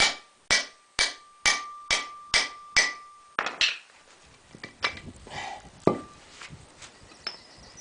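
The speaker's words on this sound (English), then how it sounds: "I use the extension, then I use the little hammer here." A small hammer strikes an extension and 1-inch socket to drive out a front wheel bearing race on a 2001 Ford Ranger, seven sharp, evenly spaced metallic blows, followed by quieter clinks and shuffling handling noises.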